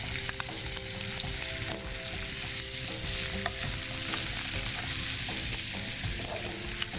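Finely chopped onions sauté in a pan for a Marathi jackfruit bhaji, giving a steady close sizzle with occasional spoon scrapes and stirring across the whole stretch.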